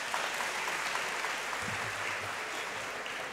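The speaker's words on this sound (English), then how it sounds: "Please, a round of applause." Sustained applause from a large crowd, dense and steady clapping filling the whole stretch without pause.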